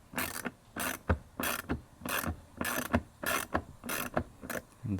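Hand ratchet backing out T25 Torx bolts from a window regulator motor inside the driver-side rear door of a 2013 Volkswagen GTI, in steady rhythmic bursts of close, crisp clicking, about ten strokes with no talking.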